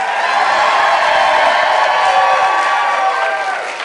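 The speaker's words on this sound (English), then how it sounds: "please keep your applause going for all the volunteers, for Jenny, for Rance, Rainy" A large crowd at a live event cheers and applauds in a dense, continuous roar of clapping and whoops, loud and steady from start to finish.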